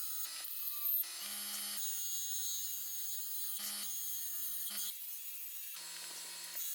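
Leopardwood spinning on a woodturning lathe after the edges were roughed down, giving a steady close whirring, scraping cut over a low motor hum, with brief breaks where the tool lifts off.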